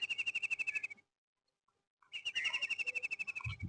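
A bird calls near its nest on village farmland in rapid repeated chirps, close and clear, pauses for a second, then resumes its quick rhythmic calling.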